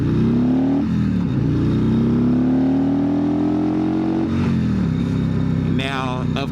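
A 2025 Harley-Davidson Road Glide 3 trike revs its engine in a loud, close, rising drone, dipping and climbing again over several seconds, with a rider talking over it.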